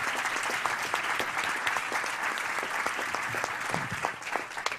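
A conference audience applauds to welcome speaker Hubert Auriol at the seventh LTD congress, a dense, steady wash of many hands clapping at close range that fills the whole span without letting up.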